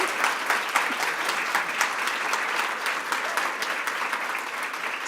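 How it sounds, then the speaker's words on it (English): An audience applauds steadily at a book talk, a dense, even round of clapping that holds at a constant level throughout. "let's give her a big round of applause"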